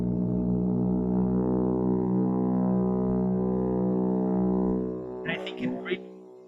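Layered synth sound built from a baritone sax sample and a bowed cello sample, a heavy, dragging drone of rich sustained low harmonics that fades out, followed by brief speech.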